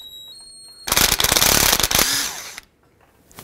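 A small impact gun hammering out a rear brake caliper banjo bolt on a 1999-2007 GMC Sierra: a loud rapid rattling burst of about two seconds, then tapering off into quiet with a faint clink at the end.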